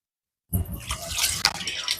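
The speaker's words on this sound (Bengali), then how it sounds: "এত পবিত্র এই জল মাথায় কিছুটা ছিটিয়ে নিলাম" Holy water from a temple pond splashed onto a person's head, a sudden close splash and trickle after a moment of silence, followed by a soft, drippy spatter.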